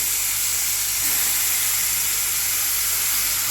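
Paneer frying in oil with masala makes a loud, steady hiss, a broad, unbroken sizzle that stays close and alone throughout.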